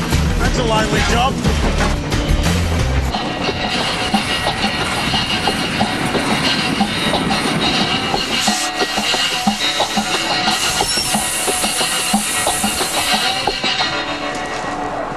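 A coal-fired steam train working hard on the Weka Pass Railway rumbles along the rails with rhythmic clacking and a steady mechanical roar, loud and close throughout, with voices talking over it.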